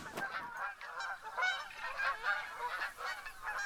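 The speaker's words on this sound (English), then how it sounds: "I kept my eye on the sky, spotting geese as I went" Geese honk repeatedly overhead in a farmland hunting setting in theHunter: Call of the Wild, a series of nasal calls in an uneven rhythm at moderate distance.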